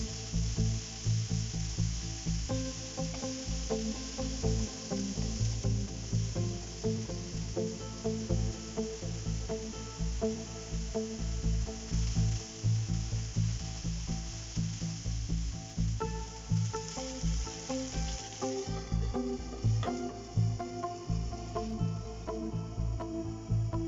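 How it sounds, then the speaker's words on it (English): Diced tomatoes and ginger garlic paste sizzle in a kadai, a steady close crackle of frying that continues evenly throughout with no talking. "cover and cook till tomatoes are soft."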